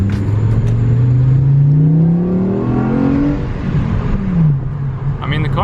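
VW Golf R fitted with a GTI MagnaFlow exhaust accelerates, engine note climbing steadily in pitch through a gear, then dropping and rising again, close and loud from inside the car.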